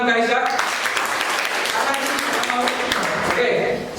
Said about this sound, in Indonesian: Oke, tepuk tangan untuk Kalisa.